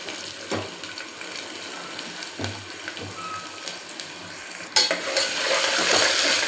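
Sliced onions sauté in a pan for a cabbage and prawn stir-fry, a steady sizzle with intermittent stirring scrapes and clinks, close up, growing louder toward the end.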